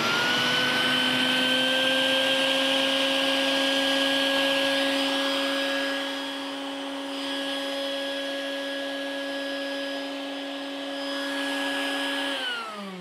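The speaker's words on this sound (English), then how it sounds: "Now, are you ready for me to turn on the vacuum?" A vacuum pump runs steadily while shrink wrapping a child in plastic for an atmospheric pressure demonstration, giving a continuous, fairly loud motor whine with a stable pitch that dips slightly midway and cuts off at the end.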